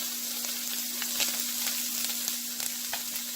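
Onion and garlic for a keto jambalaya sizzle in a hot pan, a close, steady crackling fry with a constant faint hum beneath and no voices.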